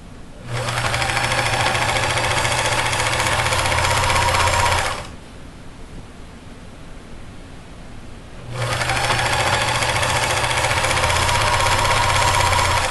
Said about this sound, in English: And I will serge that down to the pin.